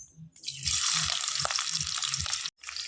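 Chopped onion hitting hot mustard oil with cumin seeds in a pan, a loud steady sizzle that bursts up and holds, cutting out briefly near the end before resuming, with low clatter beneath.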